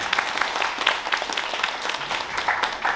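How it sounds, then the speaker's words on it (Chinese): A seated audience at a summer camp opening ceremony in New York gives steady, moderately distant applause, welcoming a speaker to the stage. "大家掌声欢迎"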